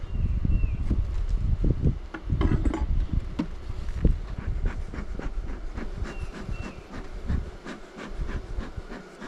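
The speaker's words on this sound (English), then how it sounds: "there's a lot of bees in there." Honeybees buzz densely around an open hive during spring queen grafting and splitting in an apiary, a close continuous hum with handling knocks and thumps from the hive boxes.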